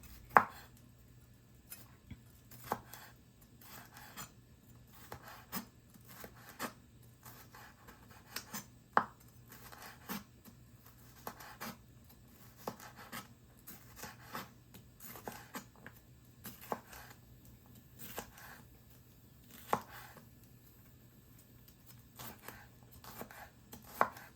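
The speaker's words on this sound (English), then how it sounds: "Let me start cutting up my vegetable." A knife chops vegetables on a cutting board for spicy Liberian fried pumpkin stew, giving crisp, fairly regular strikes one after another for a long stretch in a quiet kitchen with no talking.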